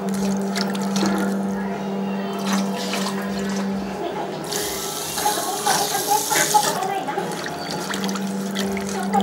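Water pours and splashes at a night street food stall, a steady running stream with clatter and busy background noise around it.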